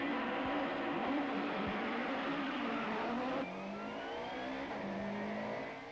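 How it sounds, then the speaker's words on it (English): Nissan Sentra touring cars idling and blipping their engines on the grid at a 1994 South African touring car race start, a steady loud engine drone with a slight pitch drop partway through, heard from on board. "We look back from the race cam in Nick Duval's BP Nissan Sentra as the cars start to form up on the grid."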